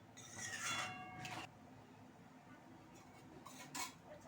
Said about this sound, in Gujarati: આની અંદર મીઠું એડ કરીશું અને એને હલાવી લઈશું